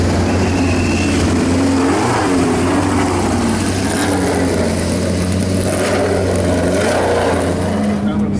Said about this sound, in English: the noise of those old V8 F1 cars is just absolutely mega